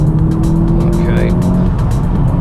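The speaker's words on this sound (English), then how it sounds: "I hope you can hear the intake, it makes such a great noise." A VW Golf GTI Mk7.5 pulls hard on a road, its intake roaring loud and steady and close throughout, with a brief higher whine in the middle.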